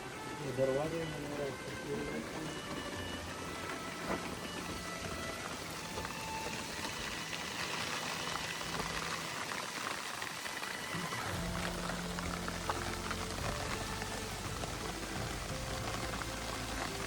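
Steady rain falls outdoors on a trip to Kharkhari Lake, a continuous wash of drops and patter running throughout, with voices talking over it.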